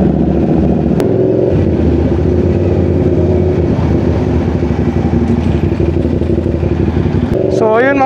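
Several straight-piped motorcycles, including CFMOTO 450SR sport bikes, idle loud and close with a rough, throbbing low rumble, a sharp rev near the end, and voices talking over them.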